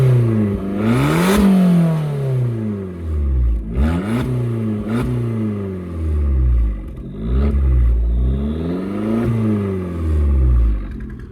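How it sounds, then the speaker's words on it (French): An Abarth 595 Competizione's exhaust revs outdoors just after rain: about four rising and falling throttle blips, each a loud, close burst with rumbling pops between them. "on va écouter le bruit de cette jolie ligne d'échappement"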